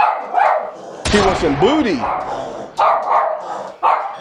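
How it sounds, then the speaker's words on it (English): A mean hound dog barks loudly and close by in a burst of deep, howling barks with rising and falling yelps, while someone talks before and after. "And I got a mean hound dog that wants a piece of UPS butt."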